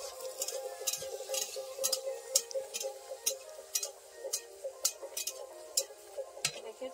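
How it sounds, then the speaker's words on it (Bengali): Puffy luchi frying in hot oil, with a steady sizzling bed broken by repeated sharp crackling bursts, close and moderately loud with no talking. "ফুলকো ফুলকো লুচি ভেজে নিচ্ছে"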